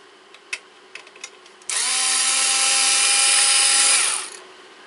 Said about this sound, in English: the next thing I need to undo is the transformer, which is 3 screws.